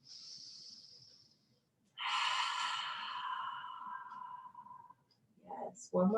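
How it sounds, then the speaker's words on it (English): A deep breath in and out during a stretching workout, close and airy, first a long inhale and then a fuller exhale, with a brief voice sound at the end. "Big inhale. And exhale."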